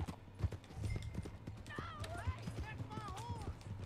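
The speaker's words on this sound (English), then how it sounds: "let's run the horse ragged because we want to catch him" Horse hooves clip-clopping at a fast gallop in a Western video game, rhythmic thuds under faint wind and horse snorts, with brief whinnying cries; a voice is present.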